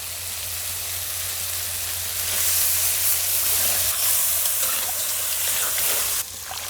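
Eggplant and potato pieces drop into a pan of fish curry with ginger-garlic paste, turmeric and chilli, and a steady hiss of frying swells louder partway through, then cuts off sharply near the end, with no talk.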